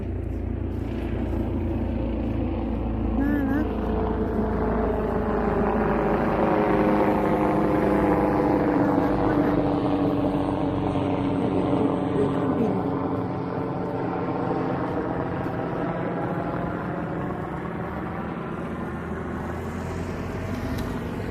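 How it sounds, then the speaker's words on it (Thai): A helicopter's steady thudding rotor drone, passing fairly close and loud. The pitch rises and falls across about twenty seconds as it moves overhead. "อุ้ยเฮลิคอปเตอร์มาแล้ว"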